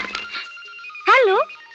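A telephone rings once, loud and close, as a short warbling electronic ring in an indoor scene, with people talking before and after it.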